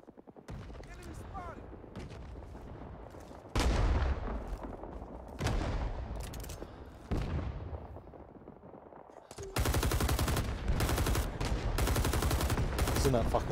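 Bursts of automatic rifle and machine-gun fire in the Vietnam War shooter Rising Storm 2: Vietnam, loud sharp volleys separated by short gaps, ending in a sustained rapid stream of shots.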